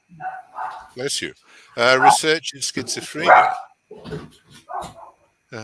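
Dogs bark in short bursts mixed in with a person talking nearby, the barks and speech overlapping at moderate loudness.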